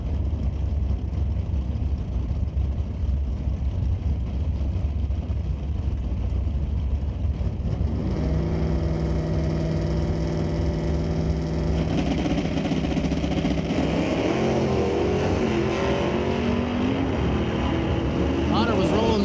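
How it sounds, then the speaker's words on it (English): Factory stock Camaro making a drag racing run, its engine a loud steady roar that shifts into rising, revving harmonics partway through and continues to the end. "Hodder, that factory stocker Camaro."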